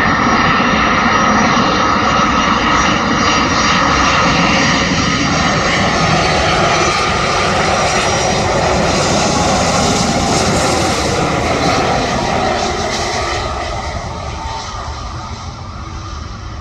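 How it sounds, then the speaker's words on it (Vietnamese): An Oman Air Airbus A330-300 landing at Noi Bai airport in Vietnam, its engines giving a loud, continuous jet roar close by that holds steady throughout and eases slightly at the end. "Đây là góc quay khác về pha hạ cánh của chiếc A330-300 của Oman Air."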